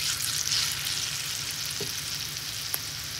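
Bora fritters fry in hot oil in a pan, giving a steady bubbling sizzle with one small tap partway through and no one speaking.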